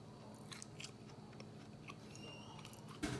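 Someone bites into a keto lemon bar with a flourless crust and chews softly, making faint, close crunchy and moist mouth sounds over quiet background noise, ending in a brief louder rustle.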